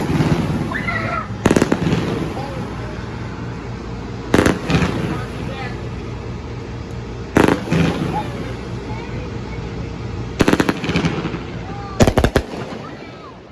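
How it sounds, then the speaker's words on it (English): Four finger fireworks go off outdoors as sharp, loud, crackling bursts, arriving singly and in quick double cracks at uneven intervals over a steady background hiss. "4-finger fireworks."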